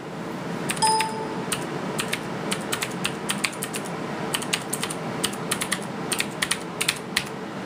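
Typing on a Ducky 9008 Shine mechanical keyboard, bursts of close, crisp key clicks in uneven runs over a faint room hiss, with a couple of brief system dings early on; no talking.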